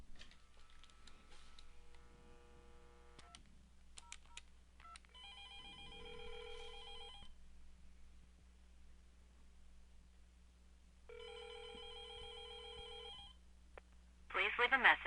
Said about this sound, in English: we're going to dial Bethany's number at extension 2002